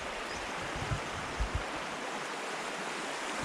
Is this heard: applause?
no